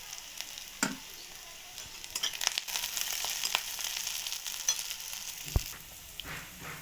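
Onion and garlic sizzle in hot oil in a pan, a steady close frying crackle with a few scraping stirs and clinks, no voices over it.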